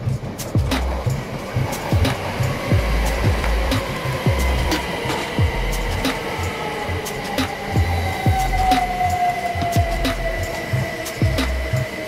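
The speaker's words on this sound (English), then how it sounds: "Took a ride on one of the 74 Class 357s that serve the entire network" A c2c Class 357 commuter train heard from inside while riding, with a steady rumble of running gear, rhythmic wheel clicks over rail joints and a rising motor whine, loud and continuous throughout.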